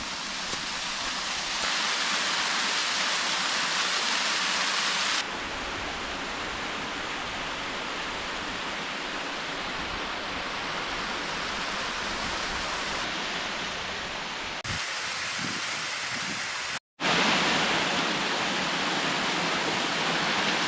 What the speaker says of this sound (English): the sound of the rushing water, seeing several waterfalls at once